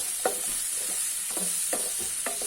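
Long beans in coconut curry are stirred in a pan over a soft sizzle, with several distinct scraping strokes of the spoon at an uneven pace, close by and without speech.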